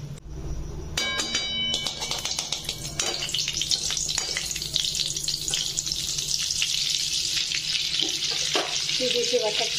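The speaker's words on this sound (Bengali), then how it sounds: "কড়াইয়ের মধ্যে দেবো এখন বাটার" Butter melts in a hot kadai (wok) and sizzles steadily, starting with a few clanks of the pan before a continuous, loud hiss of frying fills the rest.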